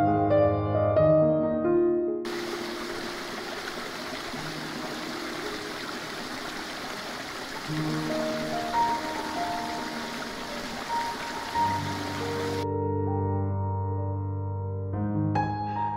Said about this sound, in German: Verschiedene Wasserfälle, Brunnen, Kaskaden und reflektierende Pools sind rund um den Park verstreut.